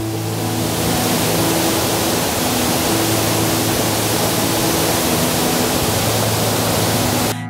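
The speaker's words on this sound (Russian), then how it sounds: "Сейчас, в это время года, водопад очень шумный и полноводный." A loud waterfall roars in a constant, dense rush of white noise that holds steady throughout, close and overpowering, with no voices.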